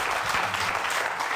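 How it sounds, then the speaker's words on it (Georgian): A studio audience at a comedy game show claps together, a brief dense burst of steady applause heard up close. "აპლოდისმენტები."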